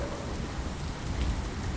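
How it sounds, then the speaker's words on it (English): Heavy rain pouring steadily with low rumbling thunder, dense continuous downpour filling the scene with no voices. "The rain fell in sheets, pounding relentlessly against the windshield."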